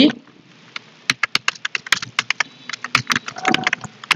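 Fingers tap quickly on a computer keyboard, a close run of sharp key clicks in uneven bursts, with brief speech at the very start.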